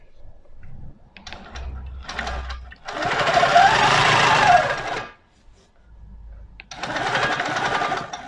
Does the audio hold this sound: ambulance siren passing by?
no